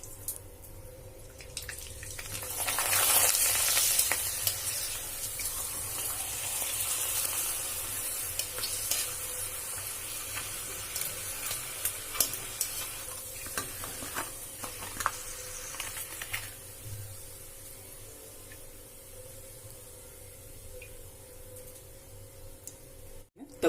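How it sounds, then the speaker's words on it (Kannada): Avalakki happala, flattened rice papad, fries in hot oil with a continuous broad sizzle, loudest early on and then settling into a steady crackling hiss with occasional stirring clicks. "ನಾನು ಅವಲಕ್ಕಿ ಹಪ್ಪಳನ ಕರ್ಕೊಳಿಕತ್ತೀನಿ"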